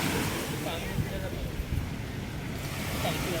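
Ocean waves wash onto the beach at Port Dickson in a continuous rushing surf, with gusty wind buffeting the microphone and faint voices in the background.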